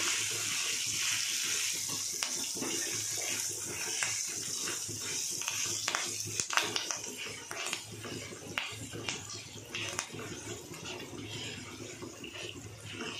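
Washed curry leaves sizzle and crackle in a hot oil tempering for tamarind rice, a steady low frying hiss with scattered pops and stirring clinks at close range.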